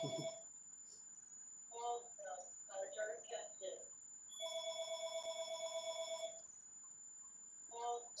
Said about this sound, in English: Let me see the phone. Get the ringer.